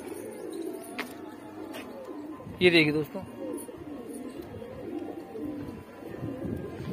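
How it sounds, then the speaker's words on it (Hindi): Highflyer tournament pigeons in a loft, a single short coo burst standing out among faint background calls and rustle, while someone talks over it. "ये देखिए दोस्त, बराबर कबूतर बैठा हुआ है अभी ऊपर"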